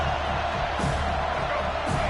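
A football stadium crowd at a Miami versus Florida State game roars in a steady, dense wash of noise that holds for the whole stretch, with a couple of swelling surges.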